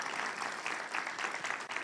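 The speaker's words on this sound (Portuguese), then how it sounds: "Palmas para ele," Audience applause at a Portuguese-language motivational lecture, a steady wash of clapping from a crowd that holds level for under two seconds without a break.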